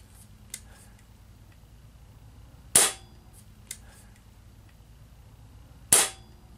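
Crosman 1377 air pistol fitted with an 18 inch Crosman barrel, two sharp snapping shots about three seconds apart, close and fairly quiet, with faint clicks between them.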